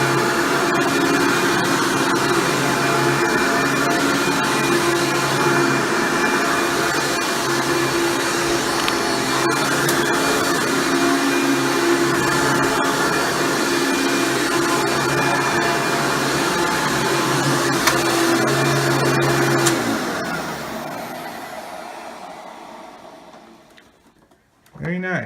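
A Hoover Breathe Easy upright vacuum cleaner runs loud and steady at close range with a constant motor whine for about twenty seconds, then winds down and stops, and a brief thump follows.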